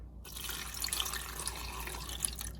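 A cup of water poured from a measuring cup over garlic cloves and potatoes inside an Instant Pot, a steady splashing pour running continuously and close by, with no talking.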